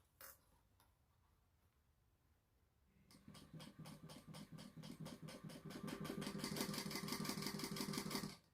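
A sewing machine stitches the center line of a fabric lanyard, starting after a quiet pause with a fast, even ticking rhythm that builds in speed and loudness, close and alone.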